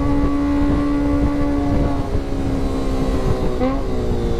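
A loud, steady Kawasaki ZX25R motorcycle engine roar close by with a sustained high-revving whine, pitch dipping briefly near the end.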